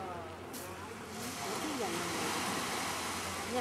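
Andaman Sea surf washing steadily onto a shore, with wind rushing across the microphone and a voice speaking briefly early on.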